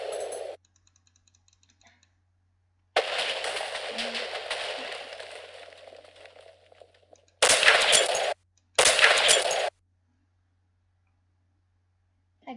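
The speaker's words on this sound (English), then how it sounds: "You shoot zombies and other creatures." Rapid bursts of gunfire from a modded zombie-shooting video game come in a long sustained volley followed by two short, loud bursts, with silence between them.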